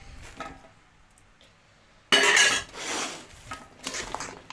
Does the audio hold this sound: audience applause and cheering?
no